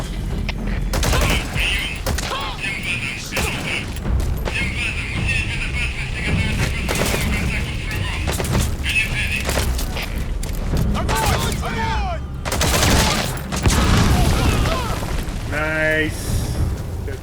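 Dense bursts of gunfire and heavy booms from Metal Gear Solid 5 The Phantom Pain, played on PC, fill the stretch, with rapid volleys, loud impacts and mechanical clatter, and a voice talking intermittently over the shooting.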